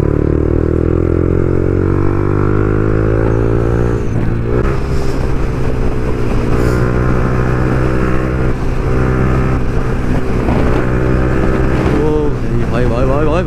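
An old Rolls-Royce cruising on a Sunday drive, its engine giving a steady, loud low drone with road rumble and wind throughout, swelling slightly as it pulls along.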